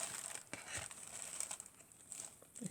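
Plastic or paper packaging around a small flower-shaped stamp is torn open by hand, giving quiet crinkling and ripping bursts close by, with a few brief crackles and no talk.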